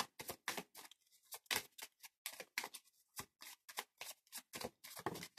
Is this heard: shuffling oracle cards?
yes